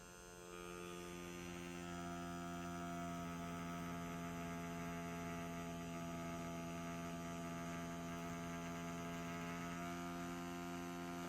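Mast Archer Ultra rotary tattoo machine with a 4.5 mm stroke running at low speed, giving a steady, even electric hum that starts quietly and holds level, with no talking.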